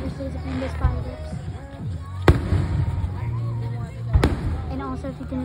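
Fireworks show at Wild Adventures in Valdosta, Georgia: two sharp, loud bangs and a softer pop stand out over continuous rumbling and crowd noise, with people talking nearby.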